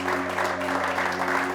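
Church congregation applauding during a French-language sermon, dense continuous clapping that fills the room, loud and close, with voices mixed into the noise.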